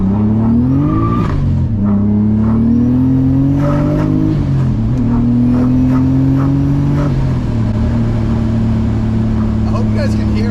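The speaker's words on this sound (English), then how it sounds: "I hope you guys can hear how gnarly like this car sounds" A 560 whp turbocharged BMW E34 under way, its engine loud and close, with a rough, gnarly drone that climbs and drops in pitch through repeated pulls and gear changes across the whole stretch.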